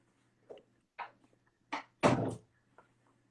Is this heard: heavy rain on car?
no